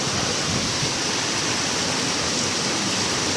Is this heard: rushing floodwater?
yes